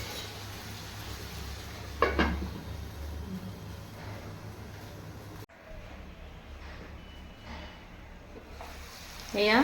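Goat meat frying and being stirred in a pan for mutton curry: a soft, steady sizzle with a few scraping strokes and clinks of a spoon, close but fairly quiet, with a brief dip midway.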